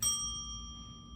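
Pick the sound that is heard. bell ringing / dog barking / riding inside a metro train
bell ringing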